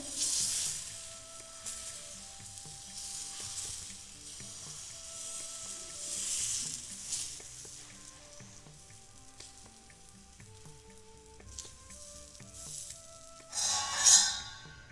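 Semolina batter sizzles steadily on a hot tawa, a soft continuous frying hiss with brief swells as more batter is spread, ending in a louder burst of crackle near the close.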